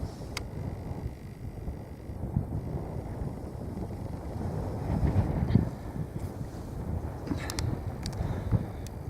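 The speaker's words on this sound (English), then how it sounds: "A bit windy" Gusty wind buffets the microphone in low rumbling waves by Loch Grannoch in Galloway Forest Park, with a few faint clicks and knocks scattered through.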